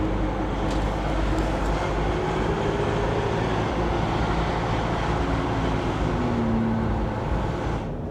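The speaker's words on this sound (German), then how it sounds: "Das Auto hört sich schrecklich an." A car towing a caravan, its engine sounding terrible, gives a loud steady droning rumble with a wavering mid-pitched whine, continuous road roar throughout and no talking.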